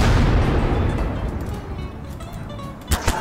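Firecracker-style explosion in Garry's Mod, a loud, dense blast that rumbles and decays over a few seconds, followed by a couple of sharp crackling pops near the end.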